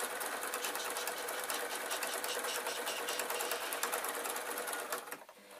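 Sewing machine stitching an artist's quilt, a fast, even mechanical chatter close by that runs steadily, then slows and stops near the end.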